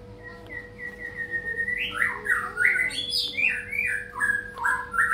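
A magpie robin sings a continuous, varied song of clear whistles and chirps that rise and fall, loud and close, over a faint steady hum.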